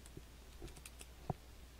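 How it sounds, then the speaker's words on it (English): Slow one-handed typing on a computer keyboard, a handful of soft, sparse key clicks with uneven gaps and a sharper tap near the end, quiet over low background hum. "I'm typing with one hand."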